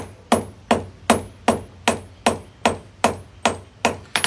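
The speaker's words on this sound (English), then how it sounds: "we'll bring our nail rod to the anvil and form a point onto the end of the nail." A blacksmith hammers a nail rod on an anvil to form a point, striking about ten evenly spaced, ringing metallic blows at a steady rhythm, each fading quickly before the next.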